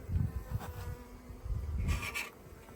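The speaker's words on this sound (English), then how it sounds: "The bees can come out here, walk in here, and take sugar syrup." Honeybees buzz steadily around a nuc hive being fed sugar syrup, a close, continuous low drone with a few louder passes near the microphone, and no voices.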